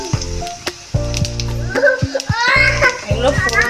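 Dried red chillies, cumin seeds and bay leaves sizzle in hot oil after fish heads were fried, a steady frying hiss running beneath prominent voices and tonal sounds throughout.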